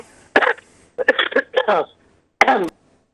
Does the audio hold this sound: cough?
yes